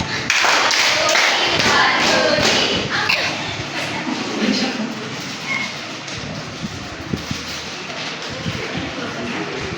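An English class claps in unison with sharp, loud claps, alongside thumps and shuffling from jumping jacks and murmured voices in the room.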